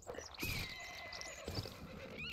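Horse whinnying in a cavalry duel video game, a short neigh with hoof clatter and combat noise, moderately loud over a busy background.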